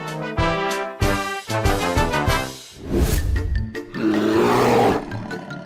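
A lion roars repeatedly, deep harmonic bellows in loud, rhythmic bursts, close and powerful, ending in grunting rumbles.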